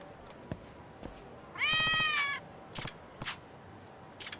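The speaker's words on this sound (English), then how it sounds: "Hello, kitty cats." Cats in the video game Lost Judgment give one drawn-out, wavering meow amid scattered short clicks and taps, with a few other brief chirpy bursts, moderately close and with no speech over it.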